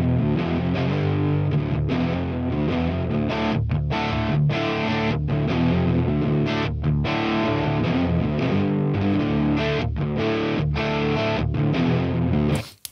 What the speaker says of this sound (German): mal gucken, wie die beiden Marshalls zusammen klingen.